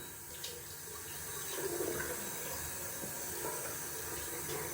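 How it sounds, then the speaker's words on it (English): Tap water running into a sink while a shaving cup is rinsed: a steady, close splashing stream with small shifts as the cup moves under the flow, and no talking. "I'm just rinsing off the cup down here, or pieces that's left of it"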